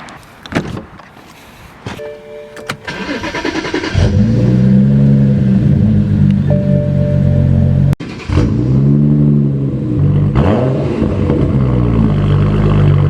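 Door clunks and clicks, then an eight-year-old BMW E92's engine cranks and roars to life at about four seconds, revving loudly, dipping briefly, then revving again with rising and falling pitch.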